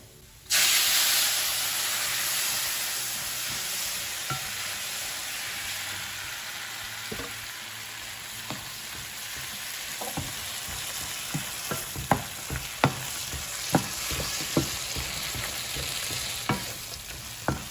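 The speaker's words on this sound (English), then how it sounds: "I'm just gonna put the salsa and mix them and turn off the pan" Fried tortillas being mixed with red salsa in a hot pan for chilaquiles: a loud burst of hissing steam and sizzle as the sauce hits, then continuous frying with repeated sharp scraping and clacking of a utensil stirring.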